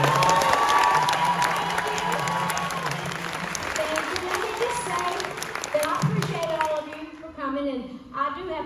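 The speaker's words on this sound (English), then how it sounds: "let's give her a big round of applause for being here" Audience at a Dollywood presentation announcing the Big Bear Mountain ride breaks into loud, sustained applause and cheering, a dense wash of clapping with scattered shouts that thins toward the end as a voice starts speaking.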